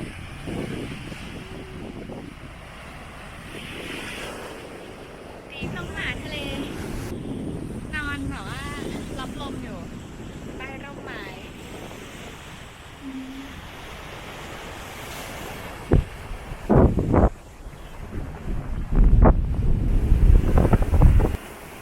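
Sea waves and wind at a beach in South Pattaya in mid-afternoon, with a continuous roar of surf and gusty wind buffeting the microphone. Louder bursts come near the end, and a voice talks over it.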